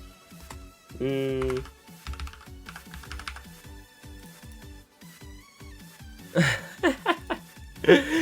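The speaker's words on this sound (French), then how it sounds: "Clavier mécanique" Rapid clacking of keys on a mechanical keyboard, bursts of irregular keystrokes close by, with faint talk and a short tone in the background.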